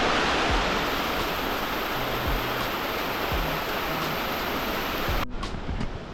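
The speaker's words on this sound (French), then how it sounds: "on a donc assisté à des cascades de 120 mètres de haut" A 120-metre waterfall in Indonesia roars as a loud, dense, unbroken rush of falling water, steady and close throughout before dropping slightly at the end.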